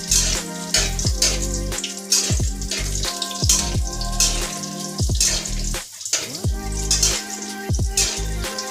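Bori lentil dumplings frying in oil in a pan, with a dense sizzle broken by repeated scraping and stirring knocks and a low hum underneath, close and fairly loud, no speech.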